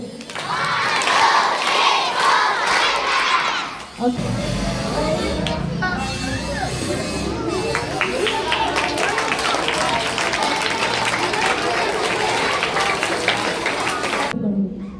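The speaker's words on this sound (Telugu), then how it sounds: "సో ఇంకొకసారి చరణ్ తేజకి క్లాప్ ఇవ్వండి." A crowd of schoolchildren at a Children's Day celebration clapping and cheering, with loud shouts and chatter at first, then a dense wash of applause and excited voices that carries on steadily to the end.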